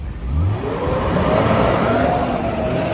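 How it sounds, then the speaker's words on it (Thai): A petrol-and-gas dual-fuel car engine with automatic transmission idles and revs smoothly close by, a steady mid-pitched hum that rises gently, with no talking. "เสียงเครื่องนิ่มๆเลยนะครับ"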